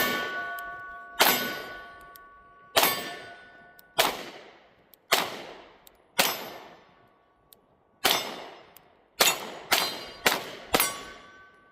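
Sharp metallic clangs from pistol rounds striking a blue steel target, about a dozen ringing hits at an uneven pace, some in quick bursts, each decaying with a bright ring, with no talking.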